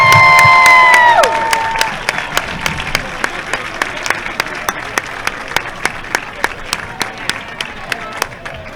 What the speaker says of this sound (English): one more round of applause for the Hitchcock High School marching band.